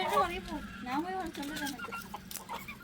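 A rooster close by gives short, throaty clucks and a brief crowing attempt at home, fairly faint, interleaved with a person talking.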